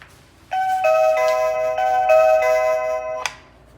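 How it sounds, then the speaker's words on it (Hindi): Commax audio intercom bell ringing indoors after installation: a loud, close electronic chime tone repeating in quick pulses for about three seconds, then stopping abruptly, with no speech. "ओके, बेल दोबारा दें एक दफ़ा।"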